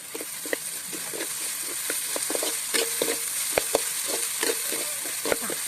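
Ginger garlic paste fries in a pan for a village country-chicken curry: a close, steady sizzle broken by scattered crackles and pops, with stirring scrapes and no talking.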